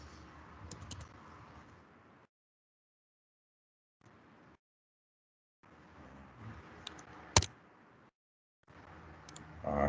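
Typing on a computer keyboard set to an English layout, with short bursts of soft keystroke clicks broken by silent gaps and one sharper tap, close and fairly quiet.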